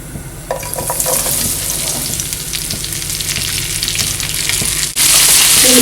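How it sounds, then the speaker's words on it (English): Green chilies hit hot mustard oil in a pan with a loud, dense crackling sizzle that holds steady, then surges brighter and louder near the end. "Once the oil is hot, now we'll add this green chilies to it."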